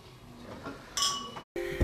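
A few glasses clink together in a toast at a jazz band's 25th anniversary celebration, a quick bright ring, followed by a brief break and another clink with light room noise.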